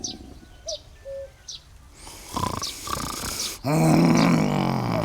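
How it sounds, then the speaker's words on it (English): Cuckoo calling in the video game The Night of the Rabbit: soft, short two-note coos repeat a few times among faint chirps, followed by louder breathy and bursting sounds. "A cuckoo. It sounds so."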